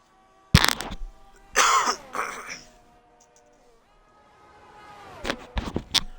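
A man with a cold coughs in several harsh bursts, one sharp cough near the start, a rougher double cough soon after, then a cluster of throaty coughs at the end, close to the microphone with quiet gaps between.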